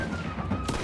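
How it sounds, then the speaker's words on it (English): Musket gunfire in a Roblox war game, a dense crackle of shots with one louder blast near the end over continuous battle noise. "They got spears, and we're shooting them with muskets"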